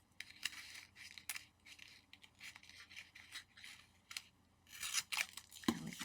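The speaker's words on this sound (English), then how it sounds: "I'm going to trim this on an angle" Paper card stock trimmed at an angle with scissors for a pleated greeting card, several short crisp snipping strokes at close range with quiet pauses between cuts, no talking.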